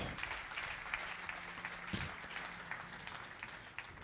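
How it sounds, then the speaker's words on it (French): A church congregation claps during a sermon, a faint, steady spatter of hands from a distance that continues evenly throughout. "Applaudissons le Seigneur juste"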